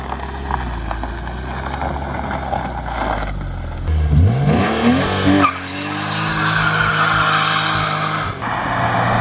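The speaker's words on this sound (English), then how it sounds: "And I didn't expect the burnout to go as hard as it did either." BMW E36 car doing a burnout, engine revving up sharply followed by loud sustained tire squeal, close and harsh, settling into a continuing screech and engine roar.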